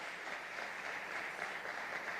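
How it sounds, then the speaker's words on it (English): An audience applauds at a Kavyanjali dance program at Ravindra Bharathi, a faint, steady wash of clapping that holds evenly throughout. "Let us give a huge round of applause"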